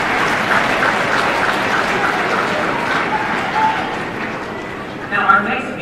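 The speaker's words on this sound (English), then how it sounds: "Let's give them one last round of applause as they take their seats." An audience applauds a chorus at a 2015 FFA convention session, with loud, dense, continuous clapping that tapers slightly toward the end, along with some crowd noise.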